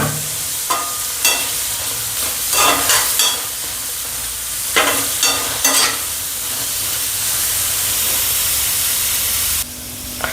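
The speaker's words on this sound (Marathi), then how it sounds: "आता टमाटर टाकून घेते" Tomatoes and onion sizzle in oil in a pan on the stove for a Chhole masala base, a steady bright hiss throughout with scattered louder crackles and spatula scrapes as they are stirred.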